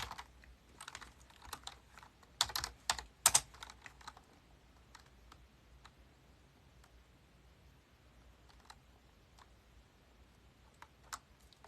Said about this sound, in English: I'm typing a 1943 diary.